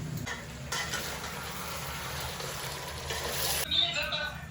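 Onion and cumin frying in a pan, a continuous close sizzle with stirring and light clinks of utensils, voices talking over it.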